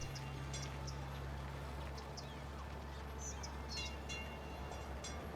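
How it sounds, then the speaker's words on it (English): Trams roll through a city in Cities: Skylines, giving a faint steady rail rumble and hum with scattered light chimes and dings on top. The sound is distant and continuous. "it's hard to hear over the trams"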